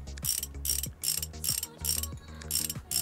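Repeated ratcheting clicks from a wrench tightening nuts in the Motorcycle Mechanic Simulator 2021 video game. The mechanical bursts arrive close and steady at about twice a second, with no talking.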